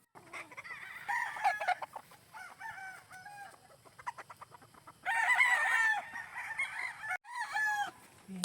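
Gamefowl roosters at a breeding farm crow repeatedly at mid distance, with steady clucking from other birds in between and no voices.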